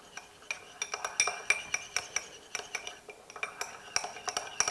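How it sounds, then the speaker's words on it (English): A spoon stirs a quinoa salad dressed with lime juice in a bowl, making a quick, uneven series of bright clinks and scrapes against the dish, close and clear, with no talking. "give that a little stir"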